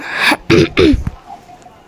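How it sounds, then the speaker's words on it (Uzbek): A person with a sore throat gives a few short, loud coughs and throat-clears in close succession, then goes quiet. "tomog'im sal bormayapti. Shunaqa yo'talyapman-da."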